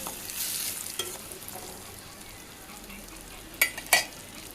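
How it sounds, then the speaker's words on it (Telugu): Mushrooms and cashews frying in a pan, a soft steady sizzle with occasional utensil scrapes and two sharp clinks near the end. "మష్రూమ్ గోలుతున్నంతసేపు కలుపుకుంటూ ఉండాలి."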